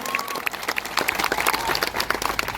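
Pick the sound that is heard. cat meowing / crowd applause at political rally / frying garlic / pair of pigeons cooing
crowd applause at political rally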